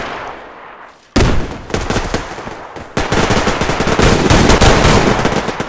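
Loud gunfire from a double-barrel shotgun in a team match of the video game Survarium, sudden heavy bursts after a quiet start, with rapid overlapping shots continuing to the end.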